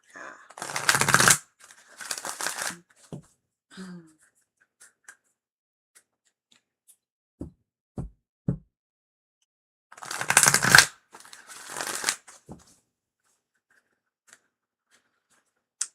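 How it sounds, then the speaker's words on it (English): Tarot cards being shuffled in two short bursts of quick riffling, rippling flutters, close and crisp, separated by a quiet stretch of light taps and clicks as the cards are handled. "Ooh, that was a beautiful shuffle."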